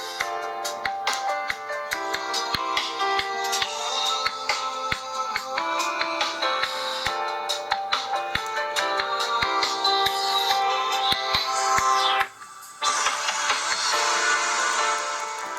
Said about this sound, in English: a quick demo of video and what audio sounds like with the built-in speakers